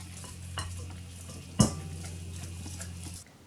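Lemon juice being stirred into cake batter in a bowl, a soft continuous scraping with one sharp utensil knock partway through, close and fairly quiet with a low steady hum underneath.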